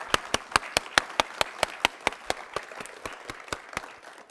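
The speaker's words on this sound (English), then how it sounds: "let's give these folks a big round of applause" A small audience at a Louisville veterans homelessness event claps in a sparse, even rhythm of distinct individual claps that slowly fades, fairly quiet and without speech.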